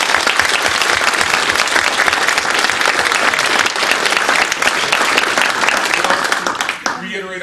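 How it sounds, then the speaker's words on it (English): A large audience applauds steadily and loudly at the close of an academic panel on post-9/11 civil liberties, the clapping dense and sustained before tapering off at the very end. "I would like to give a round of applause to our"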